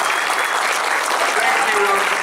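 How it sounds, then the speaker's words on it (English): Audience applause fills a fan convention Q&A panel with Josh Martin and Chris Rager, a steady dense wash of many hands clapping at close range without a break. "give yourselves a round of applause, ladies and gentlemen"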